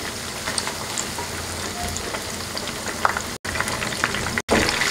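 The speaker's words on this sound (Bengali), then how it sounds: "উল্টিয়ে পাল্টিয়ে ব্রাউন কালার করে ভেজে নেব।" Chicken macaroni kebabs fry in hot oil, giving a steady, close crackling sizzle with fine spattering pops that runs without a break apart from two brief dropouts.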